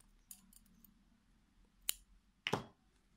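Scissors snip yarn after a crochet piece, giving a few sharp, close clicks. There is a faint pair of snips near the start, then two distinct cuts a little later, all in a quiet room.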